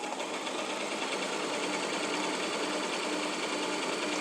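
A sewing machine stitching fabric for a drawstring face mask, a steady fast mechanical whir with continuous rapid needle chatter, close and unbroken for the whole stretch.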